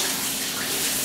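Shower water runs in a steady, even hiss throughout, close and fairly loud, with no voices over it.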